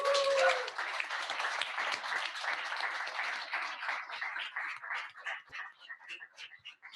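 An audience applauds after a green banking pitch: a sustained wash of clapping from a crowd that thins and tapers over several seconds, heard at moderate distance.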